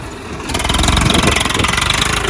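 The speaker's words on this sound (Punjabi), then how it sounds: "ਮਹੀਨੇ ਡੇਢ ਮਹੀਨੇ ਬਾਅਦ ਟਰੈਕਟਰ ਚਲਾਇਆ" A Swaraj tractor engine runs steadily at close range, a loud, continuous rumble with a rhythmic chugging pulse that swells slightly after the first half second.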